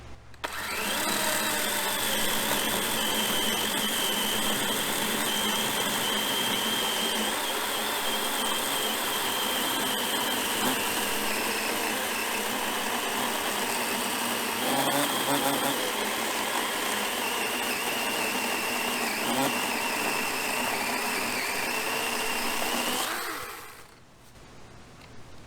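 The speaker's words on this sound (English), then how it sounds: "that's what I was expecting from just a little electric chainsaw" A DeWalt 20V Max XR electric chainsaw whines at a steady high pitch, running continuously for over twenty seconds as it bites through wood, then winds down.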